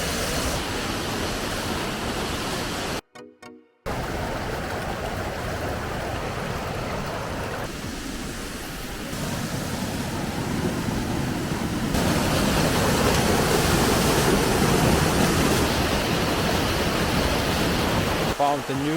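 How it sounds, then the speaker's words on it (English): A big, very high waterfall on Madeira, roughly 20 metres tall, roaring as a dense, steady rush of falling water close by, broken by one brief dropout and growing louder later on. "Found a new big waterfall, very high, maybe 20 meters high"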